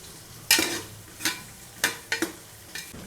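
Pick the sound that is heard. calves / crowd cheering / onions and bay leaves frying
onions and bay leaves frying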